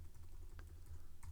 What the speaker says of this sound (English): I can make it larger by pressing the right bracket key on my keyboard.